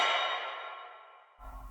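A layered woodwind orchestra accent built from stacked one-note samples sounds as a single bright chord that swells and then fades over about a second, followed by a low thump.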